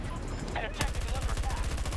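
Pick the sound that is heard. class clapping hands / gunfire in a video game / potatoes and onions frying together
gunfire in a video game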